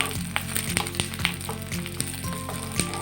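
Chhana pieces frying over medium heat in a pan, being flipped to brown the other side: a steady close sizzle with soft crackles and a few light clicks of a utensil against the pan, no voices.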